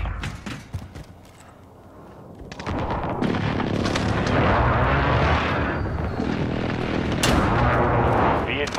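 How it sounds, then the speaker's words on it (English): Friendly precision airstrike explosions in a video game hit as a string of heavy booms and crackling blasts, loud and dense for several seconds, with short sharp reports mixed in. "Be advised, friendly precision airstrike inbound."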